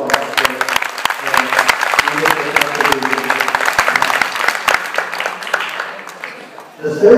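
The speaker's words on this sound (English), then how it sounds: "so can we give them a round of applause?" Round of applause for temple priests from a gathered group, steady clapping running for about six seconds before fading, with some voices mixed in.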